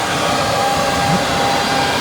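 A loud, steady mechanical whir with a constant hum, like a powerful fan or vacuum, from an electric vehicle DC fast charger running continuously and close by, with no voices.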